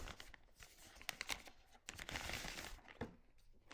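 Crinkly plastic packaging rustles and tears close by while a DJI Flip drone is unpacked, with bursts of crackling and crumpling and short pauses between them.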